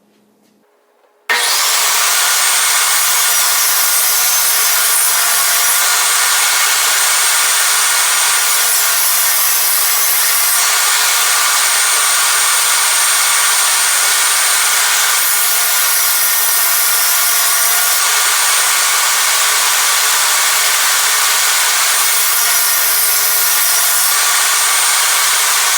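A power saw cuts 1/2 inch plywood for a lathe sanding disc in a workshop. It starts abruptly and runs loud and steady for the whole stretch, a constant high whine with cutting noise and no talk.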